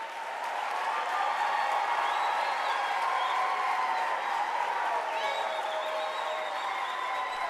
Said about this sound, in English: let us give the graduates another round of applause